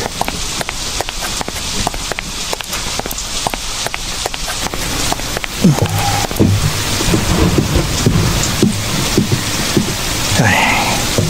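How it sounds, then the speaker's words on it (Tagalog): Heavy rain pours down at a roadside waiting shed, a steady loud hiss throughout, with a few scattered splashes and knocks growing busier toward the end. "Ang lakas pa naman ng ulan na to."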